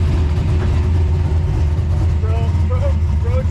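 A drift car's engine, its throttle held with a bungee cord, drones loud and steady nearby, then revs in short rising whines toward the end, with voices talking over it.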